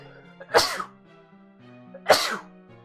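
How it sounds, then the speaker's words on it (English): Two loud, close sneezes about a second and a half apart, with quiet background music playing throughout. "How do I always sneeze while I'm Let's Playing?"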